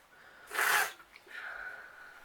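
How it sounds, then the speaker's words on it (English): A single loud sneeze bursts out, followed by a softer breathy exhale or sniffle trailing off. "I'm gonna sneeze again, so give me 2 seconds"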